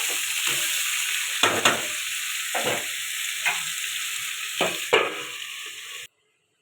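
Stems, potatoes and fish fry in a pan with a constant hiss, and several spatula scrapes and stirs knock through it at irregular intervals before the sound stops abruptly.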